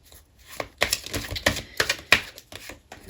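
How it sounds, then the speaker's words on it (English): Quick, clattery flutters of tarot cards being riffled and shuffled, arriving in uneven bursts close to the microphone with no voices. "so I'm going to keep shuffling."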